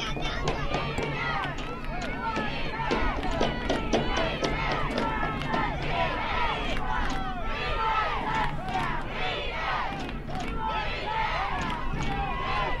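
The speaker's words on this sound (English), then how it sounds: "Both crowds getting into it now." Crowds at a youth tyke football semifinal between the ICON Raiders and Pflugerville Hawks cheer, chant and yell steadily. The loud, dense roar stays constant throughout, with voices shouting across it.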